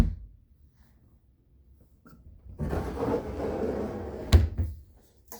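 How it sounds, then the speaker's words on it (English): A sliding RV cabinet or closet door with a button and magnet catch rolls along its track for a couple of seconds, then shuts with a sharp close-range clack as the magnet grabs. "sliding door with a button,"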